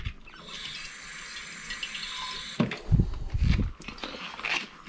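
Fresh water trickles from a tap and is poured into a glass bottle holding budgie grit, a steady hiss that turns into heavier gurgling and sloshing near the end.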